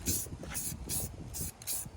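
Short bursts of fine mist sprayed from a can onto a car headlight, about five hissing puffs in a quick uneven rhythm, close to the microphone with no talking.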